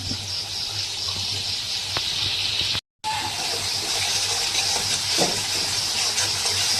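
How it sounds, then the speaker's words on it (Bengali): Masala sizzles steadily in oil with a splash of water in a pan for a fish curry with eggplant and potato, a constant bright frying hiss that cuts out for a moment, then resumes. No talking. "মশলাটা বাছবো একটু বেশি করে, তার মধ্যে তেলটা বেরোচ্ছে না মশলার থেকে, একটু বেশি করে বাছবো।"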